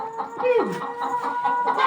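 Hens cluck softly and repeatedly up close, with a rising-falling bird call partway through over a steady barnyard background.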